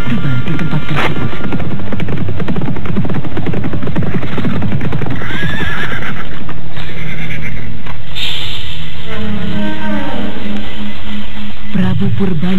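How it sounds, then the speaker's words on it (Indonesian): A horse arrives from the east through a forest and neighs, a whinny with faint hoof clops rising over a dense, continuous layer of background music and ambience. "Kesunyian di sekitar hutan loyang itu pun akhirnya dipecahkan oleh kehadiran seekor kuda dari arah timur, yaitu Prabu Purbaya."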